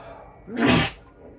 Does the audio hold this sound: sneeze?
yes